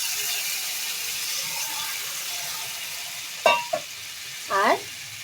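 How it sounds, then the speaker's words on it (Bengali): Half a cup of water poured into a pan of frying cabbage with fish head sizzles steadily and softly, with a few sharper splashing bursts near the end. "এর মধ্যে অল্প একটুখানি জল দেব জল দিয়ে আমি একদম হাফ কাপ মতন জল দিলাম"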